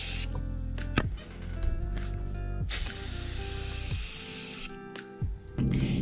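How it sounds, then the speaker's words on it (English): Bursts of hissing spray from a spray gun applying primer to scrolled MDF, several long passes separated by short pauses and clicks of the trigger, close by. "Then it's time to hit the repeat button and spray it down again."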